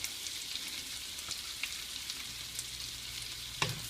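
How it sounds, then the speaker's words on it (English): Butter and chopped garlic sizzle in a pan for braised Brussels sprouts, a steady crackling hiss with a few small pops and a sharper spatter near the end, no talking. "We're going to add the butter in, and then we're going to throw in our chopped up garlic."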